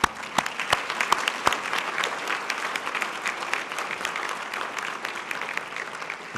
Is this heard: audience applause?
yes